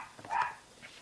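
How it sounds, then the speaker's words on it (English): A single dog bark, a short sharp yelp close by at middle loudness, indoors with no talk over it. "Sorry about my dog barking."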